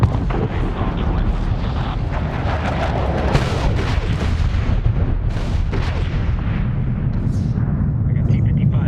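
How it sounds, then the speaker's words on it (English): Tank cannon fire rumbles through a Medal of Honor 2010 battle near a village, with deep, continuous booming and gunfire at close range. Radio chatter runs underneath. "Firing cannon."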